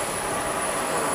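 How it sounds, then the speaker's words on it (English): Aircraft ground power unit running with a steady, dense engine roar and a thin high whine on top, constant and fairly loud with no talking. "That's the GPU started."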